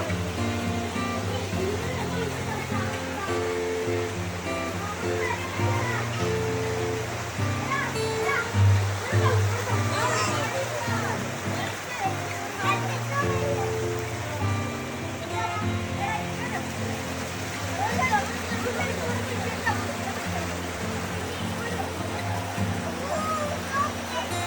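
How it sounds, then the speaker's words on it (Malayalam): Water gurgles and splashes along a stream in a wadi near Khor Fakkan, Sharjah, a continuous close rushing sound with adults and someone talking over it. "നല്ല കളകളാന്നുള്ള ശബ്ദം"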